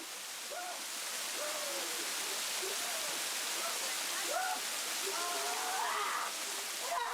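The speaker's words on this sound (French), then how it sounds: "La violence de la chute d'eau déclenche généralement une réaction" Waterfall crashing down during a Malagasy ancestral purification rite on Réunion: a steady, dense hiss of falling water that stays loud and constant throughout, with a voice talking over it.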